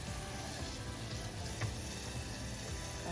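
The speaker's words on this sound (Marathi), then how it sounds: "मिरची तळली आणि उडीद डाळ पण तळलेली आहे" Green chili and urad dal frying in hot oil: a steady, close crackling sizzle that holds at an even level throughout, with no voices over it.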